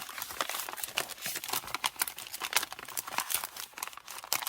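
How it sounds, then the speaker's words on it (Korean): Plastic PP packaging crinkles and rustles continuously at close range while goods are packed, dense crackling handling noise with irregular bursts and no pauses. "이것도 PP 포장 바로바로 바로 합시다요."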